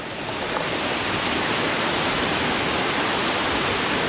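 Hongryong waterfall, swollen after rain, roars as a dense, steady broadband rush of falling water, loud and close, with no speech over it.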